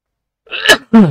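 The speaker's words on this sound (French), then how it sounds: "c'est l'éternuement du matin" A single sharp sneeze close by: a quick breathy intake bursting into a loud explosive burst, followed by a short voiced exhale.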